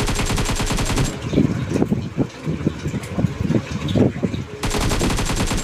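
In a shooting video game, a machine gun fires rapid sustained bursts, loud and close, with a short gap of scattered shots and game noise between the two main volleys.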